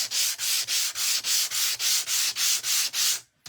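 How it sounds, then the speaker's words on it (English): Hand sanding of a wooden sign round, about eleven even back-and-forth strokes in steady rhythm, close and raspy, ending abruptly. "So I'm going to sand... just like we did before."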